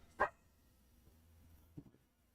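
A dog barks once sharply, fairly close, then a softer short bark or yip follows a moment later, with a quiet room in between and no talking.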